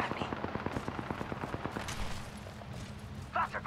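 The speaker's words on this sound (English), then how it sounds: "They're shooting at me." Rapid gunfire rattles out in Apex Legends, a steady burst of evenly spaced sharp shots lasting about two seconds, then a sparser pause before a louder blast near the end.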